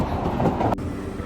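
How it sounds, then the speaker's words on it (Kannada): Miniature steam train at a train park rumbling past at close range, a steady rolling rail noise with a brief sharp click partway through, heard on its own with no talk. "ಇದು ಸ್ಟೀಮ್ ಟ್ರೈನ್."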